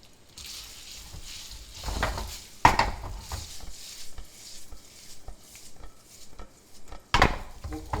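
Cooked pasta gets tossed in a pan of peperoncino sauce over low heat, giving soft stirring and scraping and a couple of sharp knocks of utensil against pan. The sounds are close and play alone.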